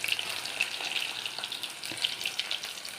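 Bitter gourd pieces dropped into hot oil in a frying pan, setting off a steady, close hissing sizzle with scattered crackles throughout.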